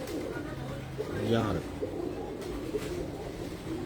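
Pigeons coo with a low, soft, rolling call rising once near the middle, close by amid ambient noise, while someone speaks briefly over them.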